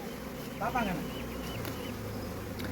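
Honeybees buzzing during a honey harvest from a hive inside a bullock cart tyre: a steady, close insect drone under a voice briefly speaking.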